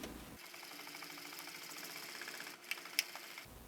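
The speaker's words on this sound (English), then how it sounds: "the first step is just to sew the perimeter seam right off the end" A walking foot sewing machine stitches the perimeter seam of a leather cushion for a Stickley style chair, a steady rapid mechanical whirring chatter running close and alone for several seconds before stopping with a few clicks.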